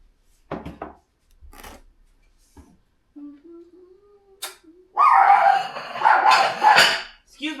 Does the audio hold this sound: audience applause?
no